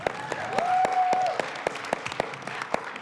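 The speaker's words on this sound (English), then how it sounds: "how about a round of applause for our panelists?" Audience at a business summit session applauds panelists: sparse, scattered claps from a modest crowd with a sustained tonal whistle-like sound in the first second, fairly close and moderately loud.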